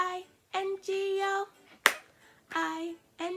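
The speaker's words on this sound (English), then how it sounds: "Remember to clap one time." A single sharp hand clap rings out between bursts of sung melody, a brief loud snap amid the tune.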